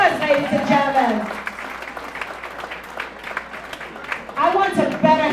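Audience applause at a women's excellence awards ceremony, a crowd clapping in a steady wash between stretches of a loud voice talking over a microphone at the start and end.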